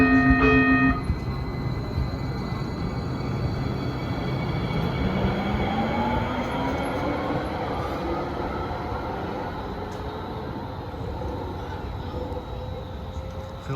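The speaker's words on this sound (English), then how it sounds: "Comes a Hoboken bound train." A Hoboken-bound Hudson Bergen Light Rail train arrives, a broad rumbling roar with squealing wheel tones sliding in pitch, steady and fairly loud, while faint voices are heard nearby.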